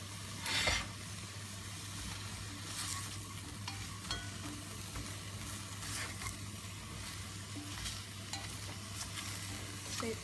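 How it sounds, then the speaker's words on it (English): Courgettes and mixed vegetables for a sweet potato curry frying in a pan, a steady low sizzle running throughout with occasional scraping stirs, one louder stir near the start, no voices. "and the courgettes. Give them all a little stir."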